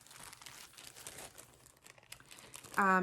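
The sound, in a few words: crinkling plastic bag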